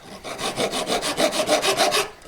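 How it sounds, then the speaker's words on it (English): A coarse file rasps across a V-claw workpiece in about ten quick, even back-and-forth strokes, loud and close, with no voices. "A coarse file, get one side really straight."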